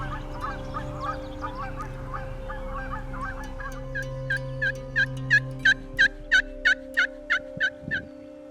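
Geese honk outdoors on a quiet Nebraska morning in a steady, rhythmic series of loud calls, each note evenly spaced, following softer chattering cackles over a quiet low hum.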